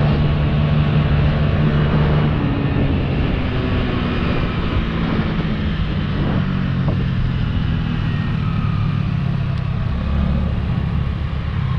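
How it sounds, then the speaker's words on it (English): A motorcycle rounds a roundabout on a slippery road, recorded by a helmet-mounted GoPro: a constant loud engine drone mixed with heavy wind rumble, continuous and close, with no talk. "I was riding my bike, going around a roundabout."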